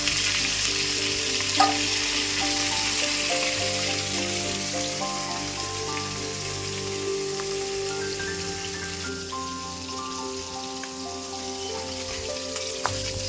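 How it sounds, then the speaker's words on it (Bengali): Fish heads frying in hot oil, a steady dense sizzle and crackle that holds at an even level throughout, close by with no talk. "মাছের মাথাগুলো আমি ভালো করে লাল লাল করে ভেজে নেব"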